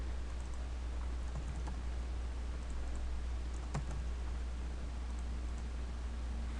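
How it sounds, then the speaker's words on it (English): Soft computer keyboard typing, scattered faint key clicks over a steady low hum and hiss, with no talking. "I'm just gonna keep typing."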